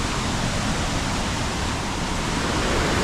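Steady, dense roar of a small waterfall at an Australian viewpoint, a continuous broadband rush of falling water that stays loud and even throughout, with no voices.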